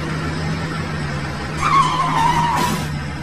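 A cartoon car is driven fast and skids, its steady engine drone rising into a loud squealing tire skid for about a second partway through.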